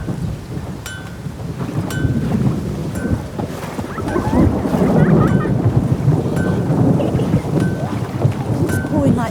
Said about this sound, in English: Keeps pouring like this